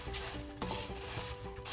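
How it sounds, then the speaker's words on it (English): Rice sizzling steadily in olive oil in a pan while being stirred, a continuous close frying hiss with faint scraping and small clinks throughout. "And it does sound like it's starting to sizzle"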